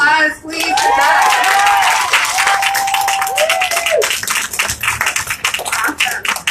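Applause for Doug Emhoff at an outdoor canvassing event, a loud burst of clapping under whooping voices that thins into sparse individual claps toward the end.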